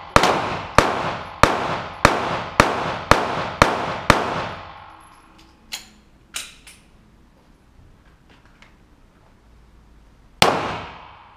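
Sharp gunshots at an indoor shooting range during precision-shooting practice, about seven evenly spaced loud reports over four seconds, then a few fainter knocks and one final loud shot after a quiet pause.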